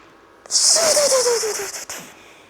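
A voice mimics a turbo boost whoosh: a loud breathy hiss with a rising then falling whistle, lasting about a second and a half, then cutting off.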